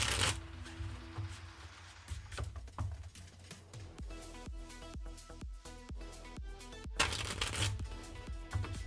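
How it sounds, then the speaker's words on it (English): Tarot cards being shuffled close up, a rapid riffling flutter that breaks into a run of crisp, evenly spaced snaps before riffling again, with no talking. "Let's shuffle."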